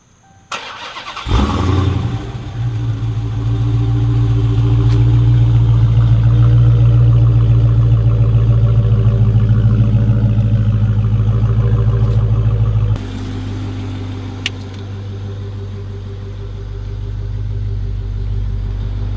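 A 2022 widebody Dodge Charger Hellcat's engine fires up warm with a sharp crank and bark, then settles into a loud, deep, steady idle before dropping to a lower, quieter rumble near the end.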